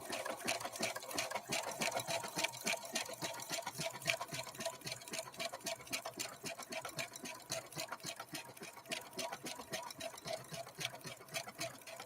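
A Brother LB-6800 embroidery machine sewing a complex tri-motion stitch, with a rapid, steady mechanical chatter of needle strokes running continuously at close range.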